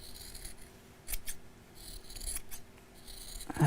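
Scissors snip through a fabric seam allowance on a sewn angel decoration, a few short crisp cuts close by, with quiet rustling between them.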